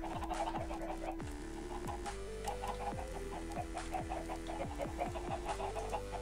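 Minecraft chicken clucks repeat in short bursts over steady background music, several birds sounding close and fairly loud.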